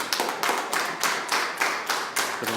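Steady rhythmic clapping from a small church group, close and fairly loud, with sharp repeated beats and no talking.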